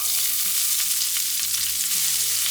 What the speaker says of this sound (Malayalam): കടുക് പൊട്ടി വരുമ്പോൾ നമുക്ക് ഇനി ഇതിലേക്ക് സവാള ചേർത്ത് കൊടുക്കണം.